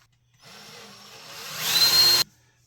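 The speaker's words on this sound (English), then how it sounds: "right there is where I want to drill the hole for my drawer handle" A power drill whines up and bores a drawer-handle hole into thick wood stock, growing louder and higher as it bites, then stops abruptly after about two seconds.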